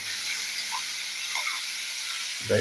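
Onion frying in a pan gives a steady bright hiss throughout, with a few faint soft knocks and a louder stirring clatter at the very end.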